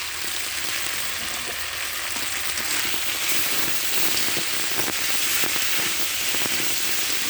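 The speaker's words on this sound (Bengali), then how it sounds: "পটল আর আলু এইভাবে আমি কষিয়ে নেব।" Pointed gourd and potato pieces sauté in hot oil in a pan, a loud, dense, continuous sizzle with faint scraping of stirring underneath throughout.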